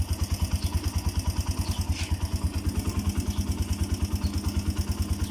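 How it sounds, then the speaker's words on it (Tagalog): A Suzuki Mola 125 motorcycle engine, freshly overhauled, idles steadily with an even, rapid low thumping rhythm, close and continuous throughout. "yan ang talagang tahimik ang andar ng makina"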